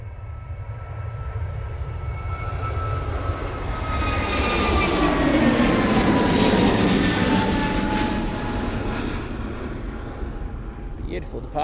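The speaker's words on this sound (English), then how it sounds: "A321neo going to Paris Charles de Gaulle Airport." An Airbus A321neo jet departs Manchester Airport bound for Paris Charles de Gaulle, its engine roar swelling to a loud peak midway and then slowly fading, with a voice talking faintly over the steady rumble.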